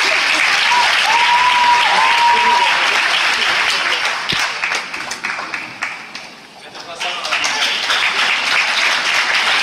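A crowd applauds the team at the opening and closing ceremonies of the Festival Fiction TV 2016, a dense, loud wash of clapping that thins briefly midway before swelling again, with a short whistle early on.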